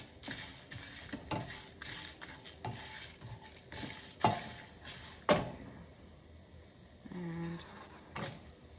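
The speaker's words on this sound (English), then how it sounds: "Next goes in the red chilies. Quick saute there." Red chilies sauté in a pan, soft sizzling under repeated stirring and scraping of a utensil, with a couple of sharp metallic clinks and a short low hum near the end, close up.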